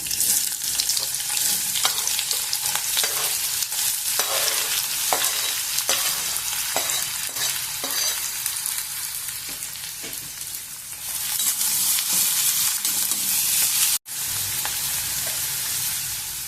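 Onions frying in a pan with mustard seeds and cumin, a loud continuous sizzle with frequent stirring scrapes, briefly cutting out before resuming.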